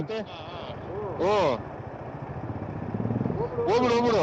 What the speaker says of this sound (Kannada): ಅಲ್ಲೊಂದು ಬೈಕ್ ಬತ್ತೈತಾಳ